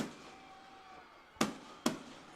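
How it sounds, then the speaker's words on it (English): Two sharp fireworks bangs burst from outside a football stadium during a homecoming high school game, each a sudden loud crack with a short decay, spaced about half a second apart over a quiet background. "as you hear the fireworks going off from outside the stadium boundary and beyond the south end zone"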